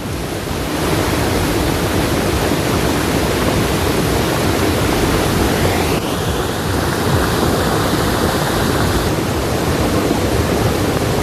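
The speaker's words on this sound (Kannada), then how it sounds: "ಜಲಪಾತವೆಂದು ಮೈದುಂಬಿ ಹರಿತಾ ಇದೆ ನೀರಿನ ವೇಗದ ಶಬ್ದವೇ ಮನಸ್ಸಿಗೆ ಮುದ ನೀಡುತ್ತಿದೆ" Loud, continuous roar of rushing water from a waterfall, steady and close with no voices.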